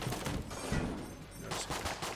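Rapid bursts of trank gun fire in Enter the Gungeon, a dense, busy stream of repeated shots layered over game music and effects, fairly loud and continuous throughout.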